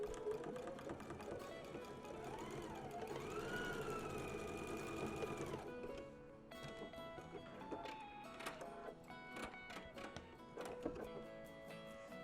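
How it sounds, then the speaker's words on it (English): A domestic sewing machine stitches across the top edge of a small fabric bag, its motor whirring steadily for several seconds and then dropping to intermittent short bursts as the seam is finished, close and fairly loud. "I'm just going to sew across this top edge, and I'm just going to use the width of the foot."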